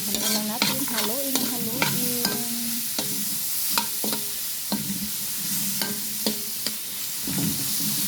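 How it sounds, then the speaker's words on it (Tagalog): Pakbet vegetables stirred in a hot pan: repeated scraping and clattering strokes of a spoon over a light sizzle, close and rhythmic, with no voices. "haluin lang natin. Haluin."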